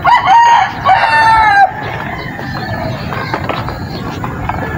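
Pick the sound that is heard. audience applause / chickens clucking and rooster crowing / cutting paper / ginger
chickens clucking and rooster crowing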